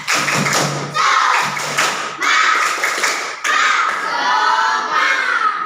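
An elementary classroom performs the tepuk semangat clapping routine, with loud groups of rapid claps and taps coming in rhythmic phrases, broken by short pauses and overlaid by children chanting along.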